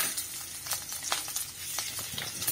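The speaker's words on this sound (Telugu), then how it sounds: "కరివేపాకు పచ్చిమిరపకాయలు ఇవన్నీ వేగే అంతవరకు వేయించుకుందాం" Coconut, green chillies and curry leaves fry in a pan for horse gram chutney, giving a soft, continuous sizzle with scattered crackling pops, close by and fairly quiet, with no talking.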